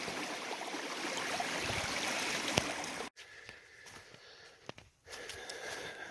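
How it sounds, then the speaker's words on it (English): A small stream trickles from a bog on a November lakeside hike, a steady close rushing flow that breaks off and returns fainter with brief handling noises. "little stream that created that waterfall that I was just showing you"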